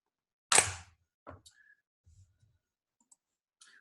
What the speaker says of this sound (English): let me plug my keyboard back in here